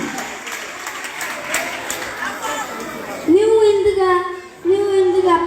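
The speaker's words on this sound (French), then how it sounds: "Pour l'applaudir" Applause and crowd chatter fill the room at a Christmas celebration in Duekoue, a steady clapping wash for about three seconds before a loud voice cuts in and carries on over the fading crowd.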